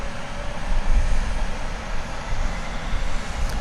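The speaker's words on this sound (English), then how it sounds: "As we look at that 777 coming in from Los Angeles, American Flight 9749." A Boeing 777 airliner arriving at DFW airport, heard as a steady broadband roar with deep low rumble that holds at a fairly even, moderate level throughout, with no voices.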